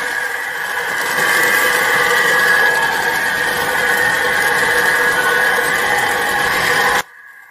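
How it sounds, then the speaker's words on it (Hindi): A drilling machine on a slipper-making setup bores holes into slippers, giving a steady, loud mechanical whine and buzz that runs evenly for about seven seconds before cutting off abruptly. "स्लीपर में होल्स किए जा रहे हैं ड्रिलिंग मशीन के द्वारा"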